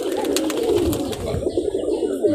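High flyer pigeons coo close by in a short burst of low, throaty warbling calls, with faint background noise.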